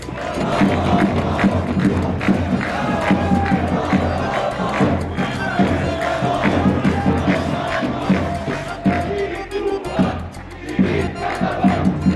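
A football match crowd cheers and chants loudly and continuously, a dense roar with rhythmic shouts rising and falling, voices mixed in close by.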